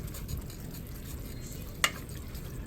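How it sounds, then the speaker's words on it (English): Ground beef browning in a pan, a steady soft sizzle and crackle running throughout with one brief sharp clink of a utensil near the end. "we're going to brown up this ground beef"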